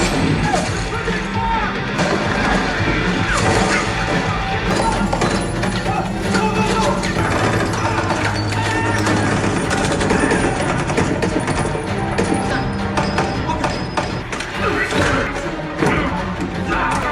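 A film shootout brings a busy barrage of thuds, crashes and impacts over dense action sound, with voices mixed in and the level loud throughout.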